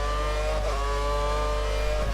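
Formula 1 race car engine accelerating in the F1 2013 video game at Bahrain, a steady high-pitched whine rising slightly in pitch, loud and continuous with a low hum beneath.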